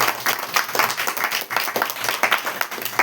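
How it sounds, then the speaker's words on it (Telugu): A congregation at a Bible teaching on Genesis claps in brisk, uneven bursts, fairly loud and close, rising and dipping over a few seconds with no one speaking. "చప్పట్లు కొట్టండి ఒకసారి."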